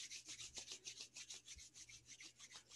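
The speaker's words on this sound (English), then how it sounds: "rub the palms of the hands, soles of the feet together briskly" Palms rubbed together briskly during a gentle restorative yoga class, a soft rhythmic swishing friction repeating steadily about every quarter second, quiet and close, with no voices.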